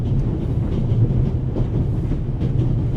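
Steady train rumble rolling on rails in The Raven, set on a train in the Alps, with a continuous low rattle throughout and no voices.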